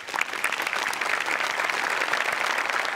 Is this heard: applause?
yes